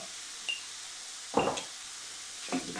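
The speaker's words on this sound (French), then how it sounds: "On fait revenir donc la viande et l'oignon." Meat and onion sauté in a hot pan with turmeric added. A steady sizzle runs throughout, broken by two louder bursts of stirring scrapes.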